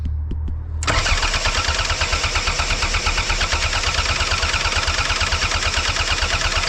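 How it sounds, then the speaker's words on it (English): A Toyota MR2 Turbo SW20 engine cranks over repeatedly without catching, a loud, fast rhythmic chugging of the starter that runs steadily for several seconds after a short faint lead-in. "Crank it for 15 seconds."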